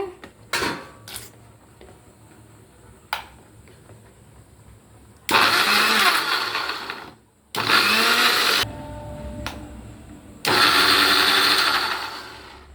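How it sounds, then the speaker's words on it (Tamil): A kitchen mixer grinder blending peeled tomatoes in a mixie jar, loud whirring bursts of a few seconds each, pulsed three times with pauses between and light clinks and handling noises in the gaps. "ஃபஸ்ட்டு கொஞ்சம் கொஞ்சமாக போட்டு அரைங்க மிக்ஸி ஜாரில்"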